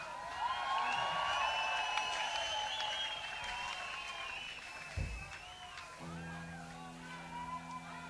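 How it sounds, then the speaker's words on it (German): A concert crowd at a live Die Ärzte rock show in Berlin applauds loudly with some cheering, holding steady for several seconds before thinning out, while a voice and faint music tones come in toward the end. "Liebes Publikum, jetzt gebt den Applaus endlich her!"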